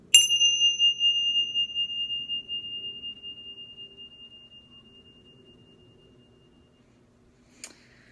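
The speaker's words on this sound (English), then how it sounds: "when I ring these tingshas" Tingsha bells struck once, giving a clear high ringing tone that decays slowly over several seconds, followed near the end by a second, brief faint strike.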